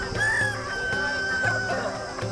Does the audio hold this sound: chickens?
yes